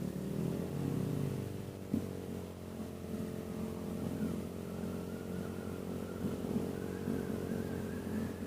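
A Honda Vario 150 scooter rides at speed at night, its engine a steady, faint droning whine with slight pitch changes as the throttle shifts, with no talk.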